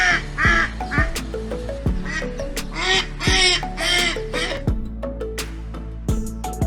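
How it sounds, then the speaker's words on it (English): Repeated nasal duck quacks in short bursts, fairly loud and close, mixed with sharp percussive knocks and some background noise, with no speech. "Duck."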